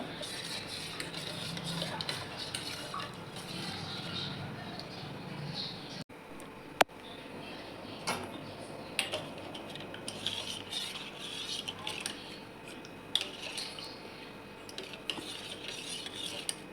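Spiced buttermilk (masala taak) with black salt stirred in a kitchen vessel, steady clinking and scraping of a spoon against the container for the whole stretch, close and moderately loud with no talking.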